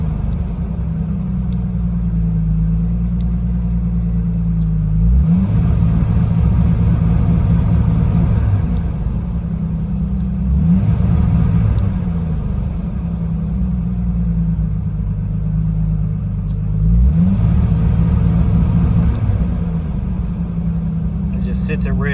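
A Renix Jeep engine idles with a deep, loud rumble, rising in three revving surges on the accelerator before settling back each time.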